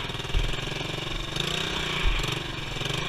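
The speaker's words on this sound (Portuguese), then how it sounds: "Sei que tá forçando muito a moto." A motorcycle engine labours continuously on the rough dirt stretch of the BR-319 highway in the Amazonas, a dense rattling drone with uneven thumps as the bike is pushed hard over the broken surface.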